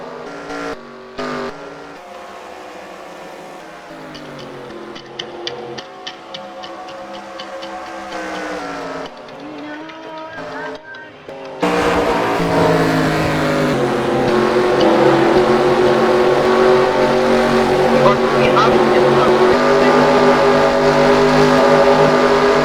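Race cars roar around an oval speedway in a racing video game, a steady layered engine drone that swells abruptly into a louder, denser rush as the pack passes close, then holds as continuous loud engine noise.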